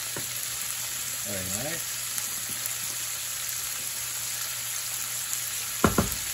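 Shrimp and linguini sizzle steadily in a pan for shrimp scampi, a constant frying hiss throughout with a brief spoken comment and a couple of utensil clicks near the end.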